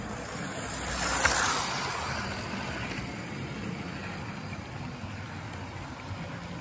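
A model train runs along a home layout, giving a steady low rumbling whir that swells briefly near the start and then holds at an even level, with no talking.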